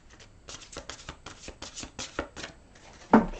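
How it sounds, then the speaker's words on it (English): A deck of tarot cards is shuffled by hand in a quick series of crisp, papery riffling bursts, ending with a louder slap as the cards come together. "One more shuffle."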